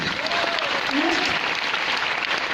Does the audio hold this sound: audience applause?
yes